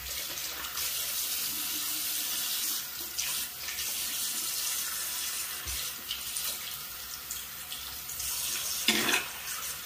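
Tap water runs steadily into a bathroom sink while a toothbrush is rinsed during a nighttime dental routine, a continuous close hiss with small splashing shifts.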